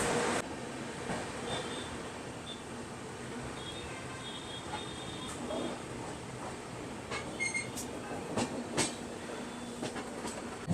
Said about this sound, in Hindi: अपनी ट्रेन निकल चुकी है कैंट रेलवे स्टेशन से